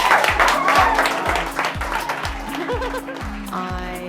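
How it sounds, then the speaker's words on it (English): An audience gives a round of applause for Beth after she shares her story, clapping and light laughter mixed with a low rhythmic thumping beat and some voices, fairly loud and dense throughout. "why don't we give Beth one more round of applause?"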